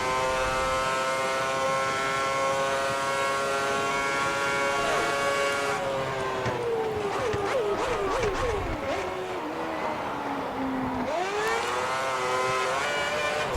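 Formula 1 car engine screaming down the main straight in F1 2010, a loud, high-pitched whine climbing through the gears with sharp drops at each upshift, then a dip and rise again as revs fall and recover, close and alone.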